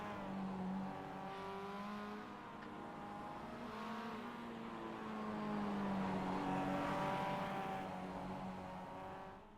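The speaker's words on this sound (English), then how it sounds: "As we see Megan warming up those tyres in the number 15." Mazda MX-5 race car warming up its tyres at Oulton Park in the iRacing video game, a steady engine drone with rising and falling revs, moderately loud and continuous, no voices.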